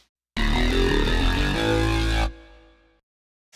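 A snarling pig keyboard patch from Space 4 Keys, programmed with eight channels and many insert effects, gives a single loud, growling synth burst with a deep low end, held for about two seconds before decaying into silence.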